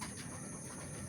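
Pigeons cooing at morning feeding time, soft low murmuring coos, faint and close, over a brief moment with steady background hiss.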